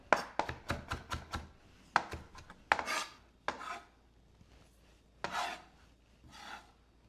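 Fresh cilantro chopped with a knife on a board, a quick burst of sharp close taps followed by scattered single chops and softer sliding scrapes with quiet gaps between, with no talking.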